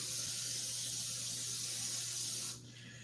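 A spray bottle being used to spray down a surface while baking molasses nutbread, a steady close hiss that runs for about two and a half seconds and then stops abruptly.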